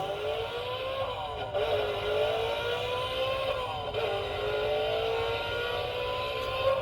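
A car engine runs steadily and revs gently, its mid-range drone rising and falling with a couple of small dips, heard close up with no voices.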